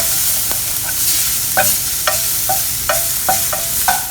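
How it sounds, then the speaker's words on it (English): A bulb's worth of chopped garlic frying in about a tablespoon of oil in a heated pan, a close, loud sizzle punctuated by a series of sharp scraping strokes as it is stirred. "In a heated pan, add in around 1 tablespoon of oil, 1 bulb of garlic chopped"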